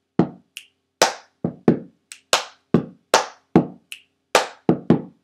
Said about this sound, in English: Snap, clap, down. So clap down together.